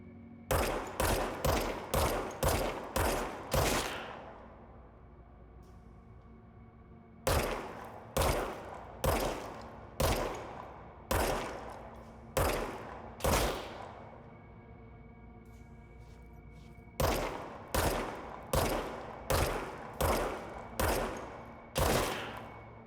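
Automatic gunfire from the video game Control, repeated loud bursts of rapid shots with short gaps between volleys, each burst ringing out briefly, close and dominant throughout.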